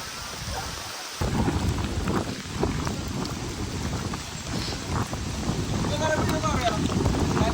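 Heavy monsoon rain pours steadily at Matheran in thick fog, a dense continuous hiss with low rumbling wind buffeting the microphone, loud and close throughout after a brief quieter start.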